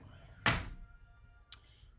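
A screen door shuts with a sharp thunk followed by a quieter second knock as it settles against the frame, close and alone in a quiet room.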